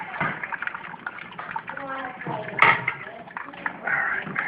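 About 2 gallons of water poured through a small colander while sparging a mini mash for homebrew Oktoberfest beer, giving a steady close splashing and trickling stream throughout.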